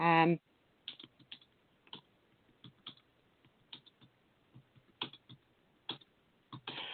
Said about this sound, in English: I'm just typing in the